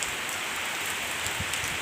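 Steady rain falling on a surface, a dense even hiss of drops with no voices, continuous for the whole moment.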